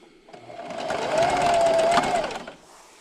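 A sewing machine runs a straight stitch on a patriotic pocket placemat at 2.5 length, a close motor whir that ramps up, holds steady for about a second with rapid needle clatter, then winds down.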